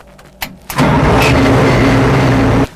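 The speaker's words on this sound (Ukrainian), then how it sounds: "можу показати, як вона заводиться. Ось Включається маса і заводиться вона." The engine of an M113 armored personnel carrier starts after a few clicks as the power is switched on. It catches with a loud burst and settles into a steady, heavy idle, then cuts off abruptly near the end.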